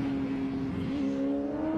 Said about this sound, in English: No, that's the sound of a bike.